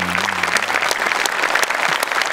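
A live comedy show audience bursts into loud, dense applause, a continuous clatter of many clapping hands close and filling the whole moment.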